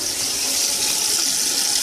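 Tap water runs steadily to fill a cold water bath, a constant, close rushing gush with no pause.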